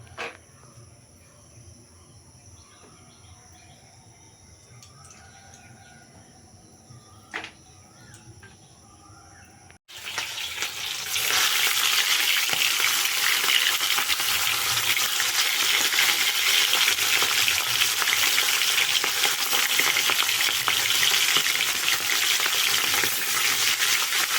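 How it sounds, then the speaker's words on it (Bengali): Pangas fish pieces frying in hot oil give a loud, dense, continuous sizzle that bursts in suddenly partway through and holds steady to the end. Quiet background before it starts, with no talk. "এই যে এখন এই মাছগুলো ভাজা করব"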